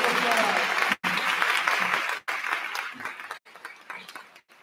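An audience at a school graduation ceremony claps for a retiring teacher, a loud full round of applause broken by brief abrupt gaps, fading somewhat toward the end.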